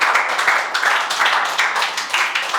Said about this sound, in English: Please clap for him.